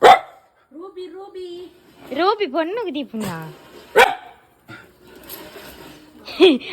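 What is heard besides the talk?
dog barking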